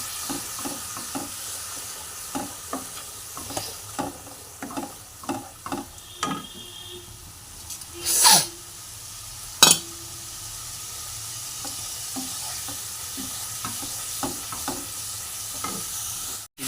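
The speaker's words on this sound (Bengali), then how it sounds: "এই পেস্টটা আমি এখানে ঢেলে দেবো। দিয়ে ভালো করে কষিয়ে নেব।" Turmeric and chilli paste stir-fries in oil, with quiet sizzling under a series of rhythmic spatula scrapes and taps and a couple of louder bursts of spitting oil midway, fairly faint and close, with no talking.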